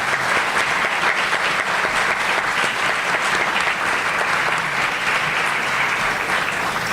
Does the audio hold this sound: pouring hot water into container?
no